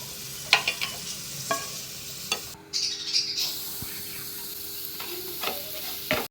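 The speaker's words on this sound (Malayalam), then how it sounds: "ആദ്യം നമുക്കൊന്ന് അണ്ടിപ്പരിപ്പുള്ള നെയ്യിൽ വറുത്തിട്ട്" Quiet sizzle of cashews frying in ghee under repeated sharp scrapes and clinks of a spoon stirring in a pan, with birds chirping faintly in the background.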